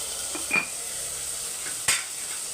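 Small shallots and tomatoes sauté in a pan with salt, giving a steady hissing sizzle close up, broken by two brief utensil scrapes and clinks, with no talk.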